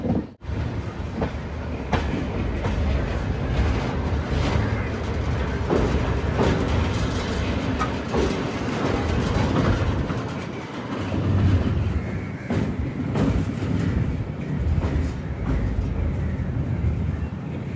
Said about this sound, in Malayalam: ഭാരതപ്പുഴയുടെ ഭാഗത്തേക്ക് ട്രെയിൻ എത്തുകയാണ്.